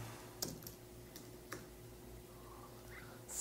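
Several light, quiet clicks of typing on a computer keyboard, sparse and irregular, against a faint hum with no talking.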